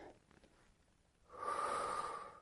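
Sharp nasal breath drawn in during a back and posture exercise, a single strong inhale rising after a quiet pause and holding steady to the end, close and fairly loud.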